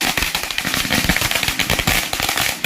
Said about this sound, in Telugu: మేము వెళ్ళిన సందర్భంలో ఈ కొన్ని క్రాకర్స్ కలిచారు